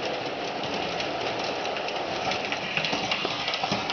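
A new model train engine pulls up a slight six-inch incline through a bridge on a basement layout, giving a steady rumbling motor hum with light rail clicks, close and continuous with no voices.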